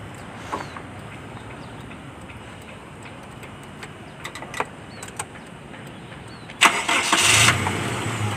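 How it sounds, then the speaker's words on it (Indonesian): A Toyota Kijang Krista 2.0 engine cranks and catches near the end, a loud rising burst after quiet outdoor ambience with a few faint ticks and clicks. "Saya hidupkan mobilnya Bro and Sis sebelum saya jalan."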